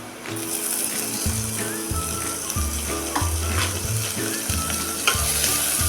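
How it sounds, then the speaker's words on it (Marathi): Tomatoes fry with browned onions in a pan for dal khichdi, a steady close sizzle with occasional stirring scrapes and low tonal sounds in the background. "आता कांदा चांगला भाजल्यानंतर त्यामध्ये हा टॉमॅटो टाकूया"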